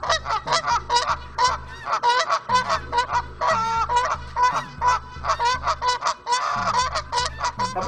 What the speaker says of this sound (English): I don't know how to fend off this many geese